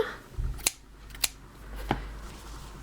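Scissors snipping crochet yarn after a finished dishcloth: three sharp, close clicks spaced about half a second apart over a quiet background.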